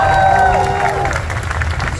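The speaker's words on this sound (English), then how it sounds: "you can keep clapping if you'd like" A live audience claps and cheers loudly and steadily for two seconds, with a voice briefly rising above the applause.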